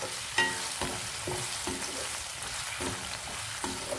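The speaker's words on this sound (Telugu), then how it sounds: "ఇప్పుడు బంగాళదుంపలు కొంచెం వేగడానికి టైం పడుతుంది." Potato pieces frying in oil in a pan for a brinjal and fenugreek curry, with a steady sizzle and repeated stirring scrapes at a fairly even rhythm, close and moderately loud with no talking.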